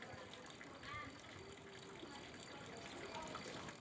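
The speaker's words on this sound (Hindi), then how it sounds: "वहाँ पे एक नदी आ रही है छोटी सी" A small mountain river in Uttarakhand rushes steadily after heavy rain, a broad continuous gush of water heard at moderate distance with faint voices underneath.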